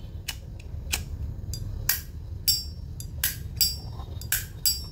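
Vintage Zippo lighter lids from the 1950s and 1960s snap and clink in a quick irregular series of about a dozen bright metallic clicks, close up over a low background hum.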